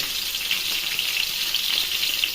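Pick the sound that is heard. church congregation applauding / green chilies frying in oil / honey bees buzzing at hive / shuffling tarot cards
green chilies frying in oil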